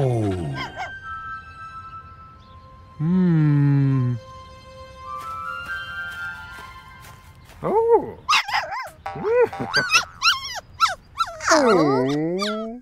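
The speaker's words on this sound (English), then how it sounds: "Grock's new puppy is so cute." A cartoon puppy whimpers and yips in a string of high, short cries and barks, some drawn out into whines, close and clear with quiet gaps between bursts.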